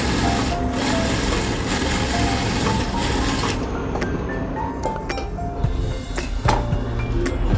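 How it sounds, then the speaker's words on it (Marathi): A sewing machine runs an edge stitch along the strip of a katori blouse, a steady close mechanical hum for the first half, then quieter with scattered small clicks and taps of handling. "योगपट्टीच्या वरून सुद्धा एज मशीन मारून घ्यायची"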